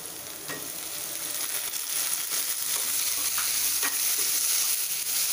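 Onion and tomato sautéing in a pan for a wet cashew bhaji, a steady broadband sizzle with intermittent scrapes of stirring, close and continuous throughout.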